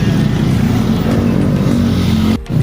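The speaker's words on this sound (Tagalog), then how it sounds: "Dito sa may barangay, Mapulang Lupa, grabe traffic." Heavy road traffic in barangay Mapulang Lupa, Pandi, Bulacan, heard from a bicycle as a dense, continuous rumble of nearby engines and tires, with a brief drop near the end.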